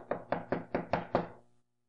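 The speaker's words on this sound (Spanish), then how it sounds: "A la casa de Pedro entraban y tocaban la puerta." Six evenly spaced, hollow knocks on a door sound close and fairly loud in a quick steady rhythm, with the last one fading into silence.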